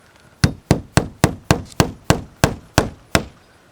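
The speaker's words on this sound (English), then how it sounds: "Nail it in and leave it loose." A hammer drives nails into vinyl siding during a house siding installation, ten sharp, evenly spaced strikes in quick succession, loud and close with no talking.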